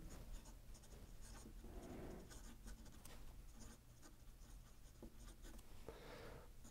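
A Sailor Naginata Concord fountain pen nib scratches across paper at a normal writing angle, producing a faint, close, continuous papery scratching with small stroke-by-stroke variations and no voices.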